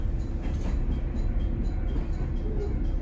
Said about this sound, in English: We took a JR train from Higashi Hagi to Masuda and switched to an express train for Izumoshi in Shimane.